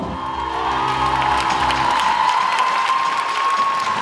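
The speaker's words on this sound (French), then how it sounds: "Applaudir Théo, s'il vous plaît." Audience at a live magic show breaks into loud, sustained applause and cheering, a dense wash of clapping with whoops, a held sung or shouted note fading in the first seconds, continuous to the end.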